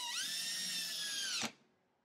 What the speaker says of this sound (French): donc là, je visse